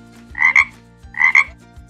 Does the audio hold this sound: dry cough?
no